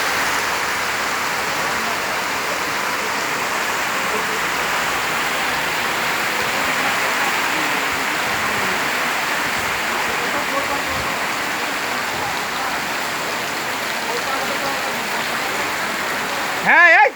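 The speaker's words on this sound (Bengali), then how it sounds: "বৃষ্টিটা এখন ভালোই জোরে আসতেছে" Heavy village downpour with wind: a steady, dense hiss of rain on the ground and grass runs unbroken and fairly loud throughout, with no talking.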